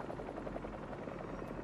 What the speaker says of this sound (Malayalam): ഇത് ഒരു ഹെലികോപ്റ്റർ.